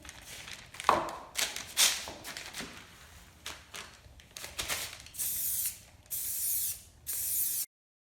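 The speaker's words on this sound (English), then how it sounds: "Okay, now we spray paint." Several bursts of khaki tan spray paint from an aerosol can onto pumpkins, preceded by rattling and clicking handling sounds; the sprays come in three long hisses near the end.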